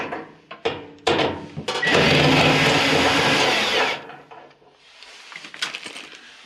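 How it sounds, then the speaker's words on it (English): A quarter-inch screw holding the fuse in a Whirlpool dryer is backed out with a power driver: several short clicks and knocks, then a loud, steady whir of about two seconds, followed by softer rattling handling noises. "It's held in place with one screw right here. I'm going to take that out."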